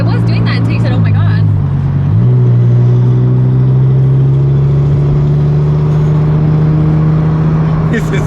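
A straight-piped, tuned Audi R8 engine drones loudly and steadily from inside the car while driving, its pitch stepping up once early and then holding a low, even rumble, with voices talking over it.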